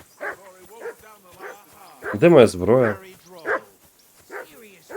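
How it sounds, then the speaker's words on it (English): A dog barks and whimpers repeatedly in the medieval role-playing game Kingdom Come: Deliverance II, the short yips coming close and loud with someone speaking over them. "That dog of yours is barking like the devil."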